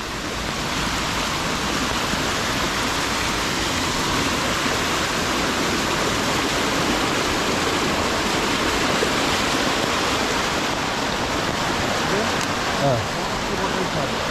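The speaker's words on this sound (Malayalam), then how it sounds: "ആദ്യം തന്നെ ചെറിയൊരു വെള്ളച്ചാട്ടം പോലെ കാണാം," A small waterfall and stream in a forest near Kuttalam, Kollam, rushing steadily and loudly, a dense continuous wash of falling water filling the whole clip without pause.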